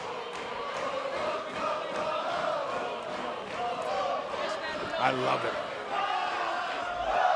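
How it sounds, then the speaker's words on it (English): A wrestling arena crowd sings along for Adam Rose at an NXT show, a sustained, tuneful mass of voices under a commentator's talk, with a brief thump partway through. "Listen to them singing along already."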